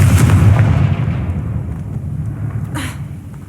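A Confringo spell blast in the video game Hogwarts Legacy: a loud, close, booming explosion that rumbles and decays over a few seconds, followed by a brief sharp crackle.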